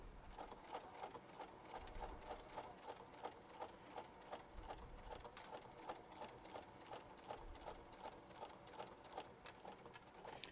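Home sewing machine stitching a purse, running at a slow, careful pace in a steady rhythmic whir with regular needle clicks, close and fairly quiet, with no talking.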